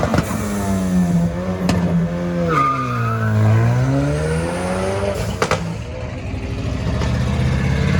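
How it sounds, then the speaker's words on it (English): Diesel truck revving hard and ripping past at a car show, a loud, close engine roar that rises and falls with tire squeal mixed in, then continues as a strong rumble. "Yo, that truck rips through here."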